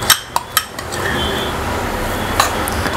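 A few sharp clinks of a spoon against a pan, then steady soft scraping as a peanut butter fudge mixture is stirred, close and moderately loud, with no talking.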